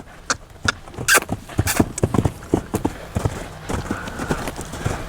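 Hoofbeats of a half draft horse loping, heavy rhythmic clip-clop thuds landing close and loud in an uneven three-beat cadence, with a brief whinny-like note and no talking.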